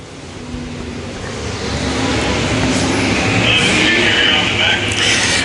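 Street stock race cars lap a dirt track, with a loud, sustained engine roar building as the cars pass near, and a commentator's voice faintly mixed in.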